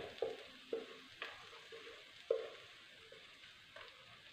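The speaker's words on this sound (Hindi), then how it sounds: "इसको हम अच्छे से पकाएंगे और मसालों को भी अच्छे से भून लेंगे" Tomato and spice masala frying in a pan, with a soft sizzle under repeated scrapes and stirs of a spoon at irregular intervals, close and moderately quiet.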